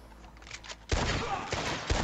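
Gunfire in Red Dead Redemption 2 during a train robbery: quiet lead-in, then a loud, dense burst of overlapping shots sustained for about a second, with a final sharp report near the end.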